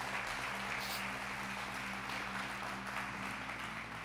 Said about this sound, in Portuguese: Pode aplaudir mesmo a Jesus.